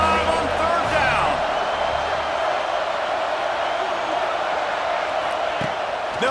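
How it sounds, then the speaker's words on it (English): Stadium crowd in EA Sports College Football 26 roaring for the Ohio State Buckeyes on third down, a dense, steady wash of cheering and whoops that fills the whole stretch, loud and continuous. "The Buckeye crowd alive on third down"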